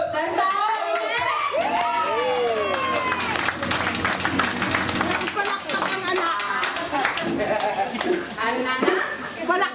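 Audience at a Kursilyo gathering claps, scattered and then fuller clapping mixed with loud talking and shouts from the crowd, close and lively throughout.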